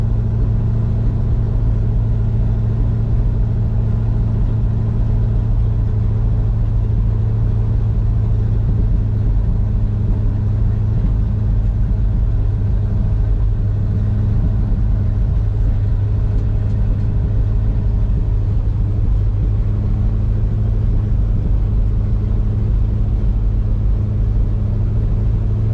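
A 1966 Ford truck V8 idles with the choke out just after a cold start, a loud, steady low rumble held for the whole stretch with no talk over it.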